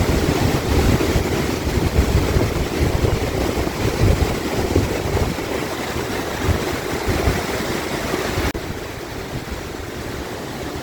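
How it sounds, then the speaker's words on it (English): Water at Niagara Falls rushes over rocks in a dense, loud, continuous roar of broadband noise that stays steady throughout, with a slight drop in level near the end. "On the top of the rock, the water is flowing on the rock."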